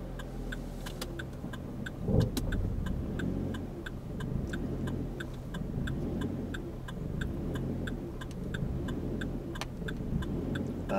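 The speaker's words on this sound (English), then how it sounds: "Deep breath and start the engine. And what we'll do this time is we'll put a bit more gas on." A car engine idles and is given more gas while waiting with the handbrake ready, a steady low rumble under a regular ticking indicator, with a brief bump as the revs rise.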